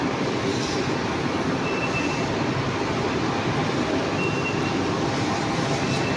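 Metro rail train standing at a station in Malaysia, a steady, loud broadband rumble of train and platform noise holding throughout with no clear arrival or departure event.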